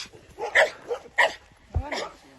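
An untrained five-month-old puppy lets out several sharp, close barks and yips in an uneven rhythm, with a person's voice mixed in.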